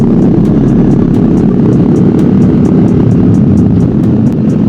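Loud, steady motorcycle exhaust roars continuously and close by during a night ride, a dense low rumble with wind buffeting and no pauses.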